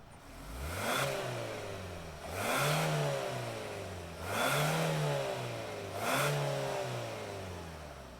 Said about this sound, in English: let's fire it up and hear what kind of sound it makes